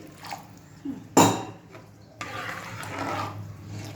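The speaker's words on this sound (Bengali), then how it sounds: "আর অল্প একটু জল দিয়ে দিই" Water is poured into a cooking pot of mustard and turmeric spice. A sharp clatter of the pot comes first, then a steady, soft splashing and hiss that lasts to the end.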